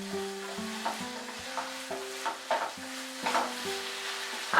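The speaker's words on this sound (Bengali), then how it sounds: "আলু আর মটর ভালো করে মশলার সঙ্গে আমি মিশিয়ে নেব, আর হাই ফ্লেমে দিয়ে এটাকে আমি 1 মিনিট কষিয়ে নিচ্ছি" Potatoes and peas are stir-fried with spices in a pan on high flame, a gentle sizzle broken by repeated scraping stirs of a spatula, with soft background music underneath.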